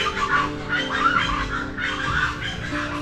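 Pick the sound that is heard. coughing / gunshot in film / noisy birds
noisy birds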